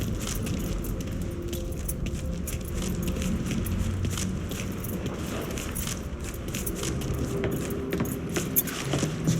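Keys jangling as they are picked up in the Mafia 3 Definitive Edition video game, a close, continuous metallic rattle over a low engine-like rumble, with no talking.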